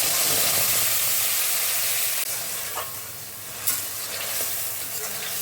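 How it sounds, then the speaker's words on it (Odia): Tomato and ginger paste frying in hot oil in a pan, a steady dense sizzle with occasional stirring scrapes and spits, fairly close and continuous throughout. "ମସଲାର ଟମାଟୋ ଆଉ ଅଦାର କଞ୍ଚା ଅଂଶଟା ଗଲା ପର୍ଯ୍ୟନ୍ତ ଟିକେ ଭାଜିଦେବା।"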